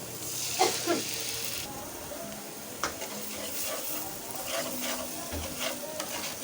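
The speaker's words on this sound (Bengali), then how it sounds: "আলু আর মটরশুঁটিটা ভাজা হয়ে গেছে এখন আমি এর মধ্যে দিয়ে দিচ্ছি ডিম" Beaten egg added to frying potatoes and peas in a pan, giving a steady close sizzle with scraping stir strokes, brighter spatter at the start and intermittent utensil clinks; no talk.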